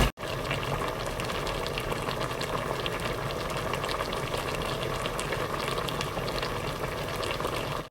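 A pot of mixed mushroom stew, Isan-style with basil leaves, boiling steadily with dense bubbling and gurgling, close and constant after a brief thump at the start.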